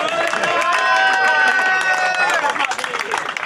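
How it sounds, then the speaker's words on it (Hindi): A crowd at a local cricket match claps and cheers for a player, loud continuous applause with shouting and a voice rising over the noise, tapering slightly toward the end. "हम अवैस भाई के लिए खूब तालियां।"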